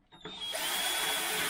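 A power drill spins up and bores into the end of a carbon fibre tube slot in a printed fuselage part, a steady close whine holding after a quick start.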